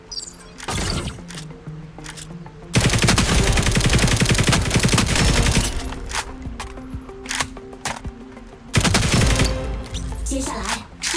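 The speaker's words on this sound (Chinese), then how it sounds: "开火，消灭训练机器人。" Gunfire aimed at training robots in the mobile shooter Operation Apocalypse, long loud bursts of rapid automatic fire and single shots, up close, with game music and effects underneath.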